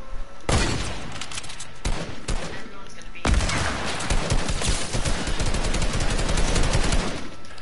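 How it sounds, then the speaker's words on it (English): Charged shotguns fire in the Fortnite video game as loud, sharp blasts. A few separate shots come first, followed by a dense, continuous stretch of gunfire and game noise, with some voice chat mixed in. "Let's go rush him with our charged shotguns."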